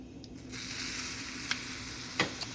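Street taco meat fries on a pan over high heat, giving a steady close sizzle with a few sharp crackles and pops.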